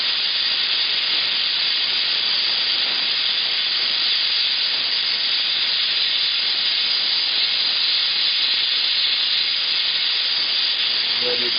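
A Bernzomatic OX2550 torch kit flame heats metal toward red hot for brazing, a steady, close, continuous hiss that holds unchanged throughout with no voices.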